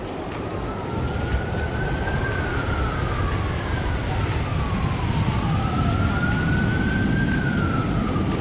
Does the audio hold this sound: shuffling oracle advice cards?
no